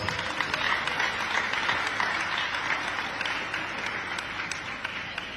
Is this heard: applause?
yes